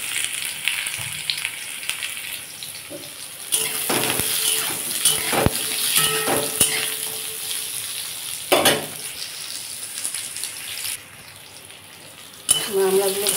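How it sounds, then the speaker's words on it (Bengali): Hog plums (amra) fry in oil in a pan with a steady sizzle and repeated scraping stirs and clinks, the frying sound dropping lower near the end. "আমড়াগুলো ভাজা হয়ে গেছে।"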